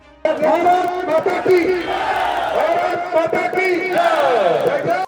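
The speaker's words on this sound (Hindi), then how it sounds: "सभा में हजारों की भीड़ उमड़ी, जहां एक बार फिर एनडीए सरकार और हेलीकॉप्टर छाप को जिताओ के नारे गूंजते रहे" A crowd of thousands at an election rally in Parbatta chants slogans for the NDA government and the helicopter symbol, loud and continuous, with voices rising and falling in rhythmic shouts throughout.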